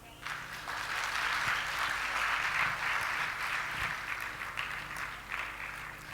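An audience at an education talk breaks into sustained applause, a fairly distant, even wash of many hands clapping together that swells early and holds steady, with a faint voice briefly underneath.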